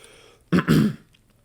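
A single rough cough, short and close, breaking an otherwise quiet moment.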